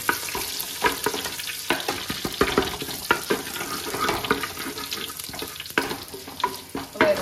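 Mangalore-style clam sukka is stirred in a hot pan, with a steady sizzle under frequent, irregular scraping and clattering strokes of a spoon against the metal, close and fairly loud.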